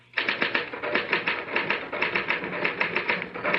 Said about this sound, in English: the truth is that the typewriter, or rather, Mr. Gahn, does all the brain work